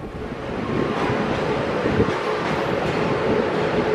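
The Kertajaya passenger train, running from Jakarta Pasar Senen to Surabaya Pasar Turi, stands at a station with a dense, steady rumble and hiss that stays loud and unbroken throughout.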